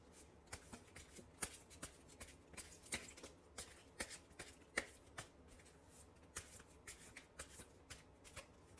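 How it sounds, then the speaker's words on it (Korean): Tarot cards being shuffled by hand in a steady series of crisp riffling bursts, fairly close and clear with no talking over them. "관계에 대한 조언 카드 뽑아볼게요"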